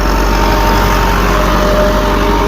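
A tractor engine runs steadily while the machine drives itself across a wheat field with no one at the wheel, a loud, constant low drone with no variation and no voices.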